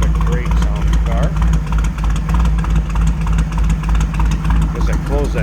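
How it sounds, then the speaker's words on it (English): A 1937 Ford Coupe street rod's engine idles steadily up close, a continuous low rumble that holds even throughout, with a person speaking over it. "Now, listen to that. What a great sounding car."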